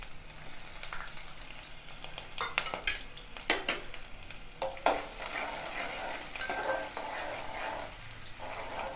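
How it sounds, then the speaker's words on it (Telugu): Close-up crackling and sharp pops burst irregularly as whole spices (cinnamon, cloves, peppercorns, cardamom, mace) splutter in hot oil over a soft sizzle, with an occasional clink of a utensil. "ఈ చిటపట అంటే జాగ్రత్తగా చూసుకోవాలి, లేకుండా కళ్ళలో ఇట్లా పడుతుంటాయి ముఖం మీద"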